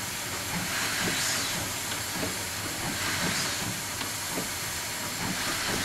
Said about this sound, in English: Our steamer, Ng15-123, reverses out of the shed, but then has great difficulty in climbing back up the bank to pick up its carriages.